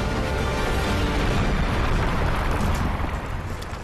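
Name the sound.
explosions in video game Crysis 3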